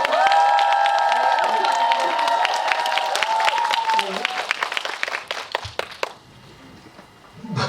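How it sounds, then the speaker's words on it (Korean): Applause and cheering from a packed cinema audience greeting an actor at a pre-release screening Q&A, loud and dense at first with whistles and shouts, thinning toward the end as clapping fades into scattered noise. "조윤준 배우님께 큰 박수."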